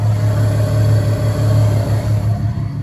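Low, rumbling idle of a Volkswagen MK4 GTI engine after a coolant system refresh with upgraded aluminum parts, a close, steady throb with slight pulsing and no talking.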